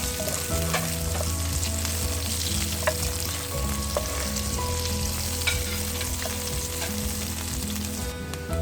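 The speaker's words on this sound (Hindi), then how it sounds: "प्याज को अच्छी तरह से सौते कर लें।" Sliced onion sautés in half a cup of hot oil for chicken biryani, a steady close sizzle with light crackles and occasional spatula taps, continuous and unaccompanied by speech.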